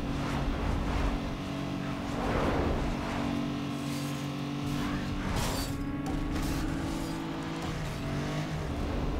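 Racing car engine from Need for Speed Underground 2, a Hyundai Tiburon, droning steadily at high revs with gear-shift swells and loud, continuous game audio for the whole stretch.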